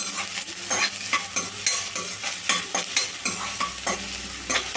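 Finely chopped onions sizzle in a pan as a spoon stirs them in steady, repeated scraping strokes about every half second, close and moderately loud, with no talking.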